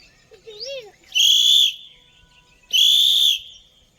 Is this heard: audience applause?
no